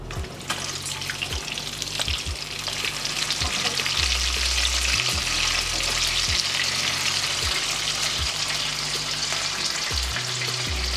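Bacon frying with a steady bright crackle and sizzle, joined by a recurring low mechanical hum that cycles on and off.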